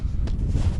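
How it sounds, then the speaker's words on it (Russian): Strong night wind buffeting a microphone out on a frozen lake during a blizzard, a steady low roar and rumble with gusty swells throughout and no voices. "Такой ветер, блин, вообще жесть."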